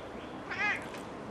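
A domestic cat gives a single short meow, close by and soft, over a low steady background hum.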